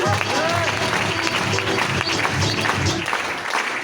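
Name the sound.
applause at stage event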